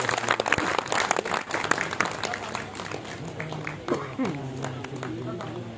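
Applause from an audience at a memorial stage event, steady clapping filling the clip alongside a talking voice over a PA.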